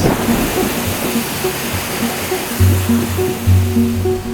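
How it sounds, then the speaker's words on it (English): Heavy rain pours down steadily in a dense, close hiss during a running ultra marathon across Bali, with faint low tones and rumbles mixed in beneath. "And as if I requested, it started pouring down."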